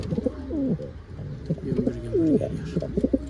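Male pigeon cooing repeatedly among wild pigeons, a series of deep, rolling coos in uneven bursts with a faint voice in the background.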